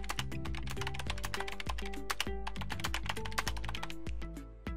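Rapid typing on a computer keyboard, a dense run of crisp key clicks at close range over a steady low hum, slowing and fading at the end.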